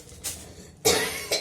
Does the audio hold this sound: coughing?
yes